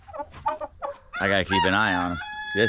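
A rooster crows loudly and close by, one drawn-out call, with someone talking just before and after it.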